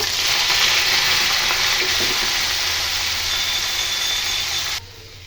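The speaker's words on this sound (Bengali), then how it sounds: "এতে আমি এবার আলু আর এঁচোড়টা দিয়ে ভেজে নেব" A loud, steady sizzle of potato and green jackfruit frying in hot oil, broadband and continuous, cutting off abruptly near the end.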